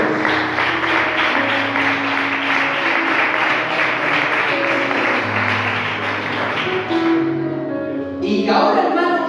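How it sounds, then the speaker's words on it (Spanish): Congregation applauding during a Spanish-language sermon: sustained, even clapping with a low musical tone underneath, then cutting off as a voice resumes. "¿Cuántos dan un fuerte aplauso a nuestro Dios?"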